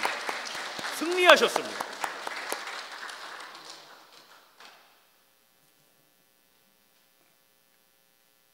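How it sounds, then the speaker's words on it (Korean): A church congregation claps together in a dense burst of applause that peaks early and fades out over a few seconds, with someone speaking Korean over it. "우리 옆 성도에게 승리의 축하 박수 한번 줬으면 좋겠습니다"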